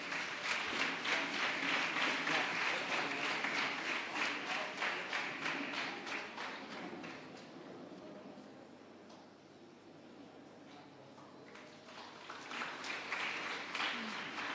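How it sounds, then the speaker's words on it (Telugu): An audience at a student vicariate meeting applauds loudly as a priest is invited onto the stage. The dense clapping is strong at first, thins and fades in the middle, then swells again near the end. "అందరు గట్టిగా చప్పట్లు కొడదాం."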